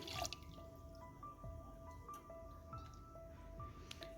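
Rice-washing water is poured onto a homemade organic liquid fertilizer mix with gram flour, heard as faint, quiet drips and small splashes at irregular intervals over a low background.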